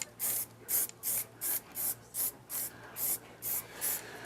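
Aerosol paint sprayed onto a miniature display surface in short rhythmic bursts, about eleven hissing sprays at a steady pace, close and fairly quiet.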